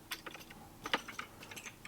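Quick, light taps on a computer keyboard, a short irregular burst of typing with one sharper keystroke near the middle, close and quiet.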